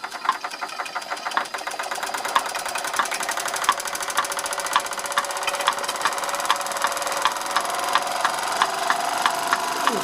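A 1930s Bing 10-147-2 twin-cylinder toy steam engine runs steadily, its rapid, even mechanical chuffing and clatter close and loud, gradually speeding up.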